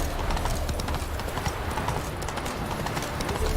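Roach the horse gallops in The Witcher 3, hooves clip-clopping in a steady, dense rhythm throughout, loud and close, with a brief whinny possible in the mix.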